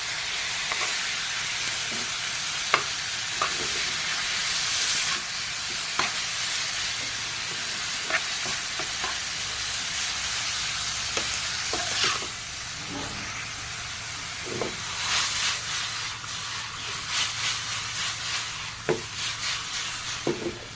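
Bathua greens stir-fried in a pan with onion and garlic give a steady sizzle and hiss, with scattered scraping stir clicks from a spatula throughout, no speech.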